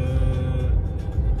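A car pulls away on a road in Germany at the start of a long drive to Turkey, a steady low engine rumble with road noise holding close and loud throughout, no voices.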